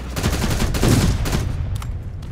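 Rapid gunfire from the post-apocalyptic shooter Terminator Resistance: a dense, loud barrage of overlapping shots with sharp repeated cracks and a heavy low rumble, steady for about two seconds before thinning out, with no voices over it.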